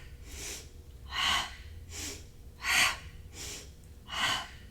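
Slow, deliberate breaths during a yoga class, a soft airy rush repeating about every 1.5 seconds, with every other breath noticeably fuller and louder, close and clear with no talking.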